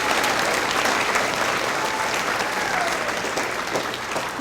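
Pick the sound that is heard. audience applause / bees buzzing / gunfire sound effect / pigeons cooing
audience applause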